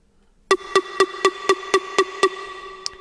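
A bright synth pluck repeats eight evenly spaced short notes at a moderate volume, clean and alone, with a faint click near the end.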